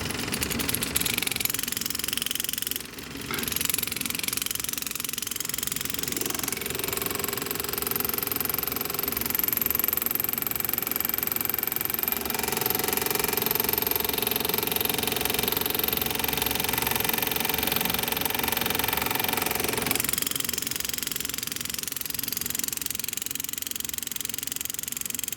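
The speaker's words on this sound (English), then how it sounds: "This thing is cutting into it about, I want to say, about 1/16 of an inch into this copper." Homemade air engraver handpiece cutting into a block of zinc: a rapid, buzzing hammer-like chatter with a steady whine, sustained for many seconds and close by, with no talk.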